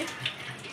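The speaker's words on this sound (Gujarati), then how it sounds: "પાણી સરસ ઉકળી ગયું છે" Water boiling in a cooking pot for Gujarati dhokli nu shaak makes a quiet, continuous bubbling and hissing with small irregular pops, close by and with no voices.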